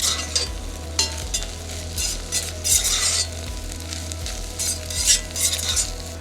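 Shrimp heads and vegetables sizzle loudly in foaming butter, close up, with repeated scraping stirs and clinks of a utensil against the pan in an uneven rhythm.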